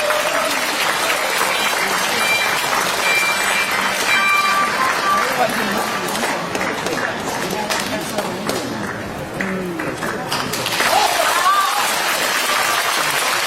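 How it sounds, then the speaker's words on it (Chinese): Sustained audience applause at a Peking Opera concert hall, a loud, dense wash of clapping that continues steadily for the whole stretch, with no talking heard over it. "掌声有请。"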